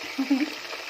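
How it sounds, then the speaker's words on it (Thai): Pork meatballs frying in hot oil, a short steady sizzle with a few bubbling pops, close and fairly loud. "ทอดลูกชิ้นเข้าไปด้วยนะคะห้าลูก"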